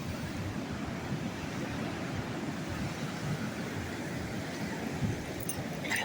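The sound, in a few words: ocean waves breaking at Pacific Beach, California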